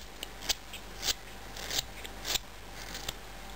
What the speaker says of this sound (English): I'm cutting, the grain is running this way, so I'm really cutting off like at an end cap here